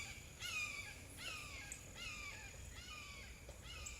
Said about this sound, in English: Red-tailed hawk